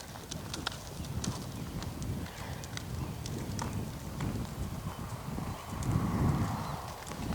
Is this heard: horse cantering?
yes